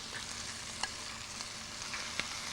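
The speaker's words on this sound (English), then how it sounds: "now I'm going to return my fried chicken into the frying pan" Fried chicken returned to a frying pan sizzles steadily and close up, with faint clicks and pops but no voices.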